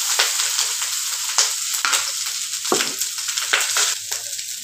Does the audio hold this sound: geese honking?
no